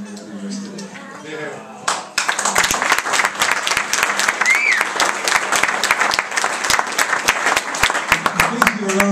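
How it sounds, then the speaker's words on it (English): Wedding guests burst into loud, sustained applause for the bridesmaids after a moment of speech, many hands clapping densely and close for several seconds. "Please give a round of applause for the bridesmaids"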